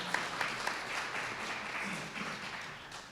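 An audience applauds steadily at a disability benefit policy event, a dense, continuous patter of many hands at moderate distance, holding through the whole stretch with no voices over it.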